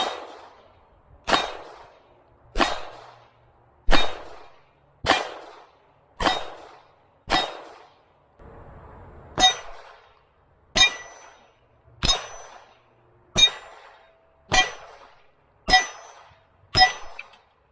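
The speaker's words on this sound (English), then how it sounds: "Now it's time for the Springfield 1911 chambered in 45 ACP." A Springfield 1911 in .45 ACP fires at steel targets, giving about thirteen sharp shots with ringing metallic clangs at a steady rhythm, spaced roughly a second apart, with no talk.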